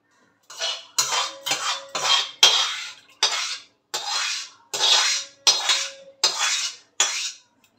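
Metal ladle scraping and stirring mutton in a cooking pot, about a dozen evenly spaced rasping strokes, loud and close with a ringing metallic edge, no voices.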